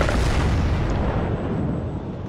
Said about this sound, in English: You get some good groupings out of these cannons